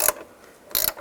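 A ratchet snugging door hinge bolts on a 2007-13 Chevy Avalanche gives two short bursts of metallic clicking, close and fairly loud, separated by a brief quiet pause.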